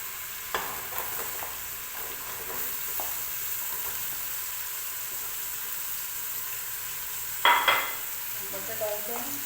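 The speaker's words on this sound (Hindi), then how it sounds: "ये मसाला भून गया है और आपने इसमें मिक्स वेजिटेबल डाल देनी है।" Mixed vegetables such as potato, peas and carrot stir-fried in masala in a pan, giving a steady low sizzle broken by a few spoon scrapes and one louder burst of stirring near the end.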